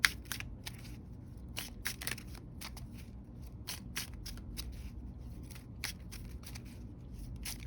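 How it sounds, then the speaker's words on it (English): Tarot cards are shuffled by hand, giving a quick, irregular run of crisp papery snaps and flicks, close and fairly quiet, with no talking. "let's go ahead and get some shuffling going"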